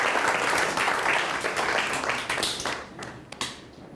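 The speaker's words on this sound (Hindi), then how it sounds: "जोरदार तालियां हमारे इंतहाई मोअज़्ज़ज़ जजेस साहिबान के लिए" A live audience bursts into loud, sustained applause for the judges of a speech competition during a Ramadan iftar broadcast, with dense, steady clapping that thins toward the end.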